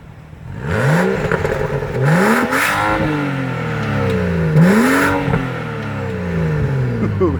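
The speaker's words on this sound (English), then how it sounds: "I'll give you a little rev time here" A BMW M235i Convertible engine is revved several times in quick succession, each blip rising sharply and falling back, with a crackling exhaust between revs, loud and close.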